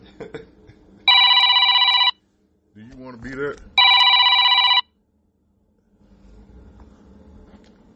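A telephone rings loud and close in two bursts, each about a second long, and a voice speaks briefly in the gap between them before quiet background murmur follows.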